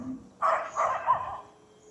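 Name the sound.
dog barking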